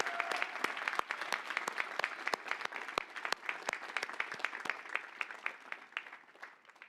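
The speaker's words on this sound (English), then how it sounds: "One more round of applause." Scattered, moderately sized applause at a university graduate school matriculation ceremony, individual claps standing out distinctly, fairly quiet and fading toward the close.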